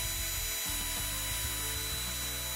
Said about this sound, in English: Let's drill some small holes, somewhat in the center of where the actual hole should be.